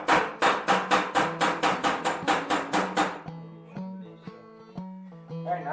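A hammer taps the bent jet of a Suburban propane RV furnace, about a dozen quick, ringing metallic strikes in a steady rhythm, then quiet fiddling noises.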